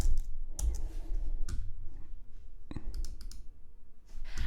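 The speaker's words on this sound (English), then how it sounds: "So I'm going to type some lyrics which remind me of summer." Computer keyboard typing as lyrics are entered, a few scattered clusters of sharp close clicks separated by quiet gaps, with no voices.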